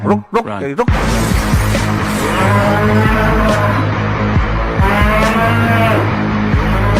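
A buffalo gives a loud, drawn-out low moo that fills most of the stretch, right after a brief sharp sound at the start.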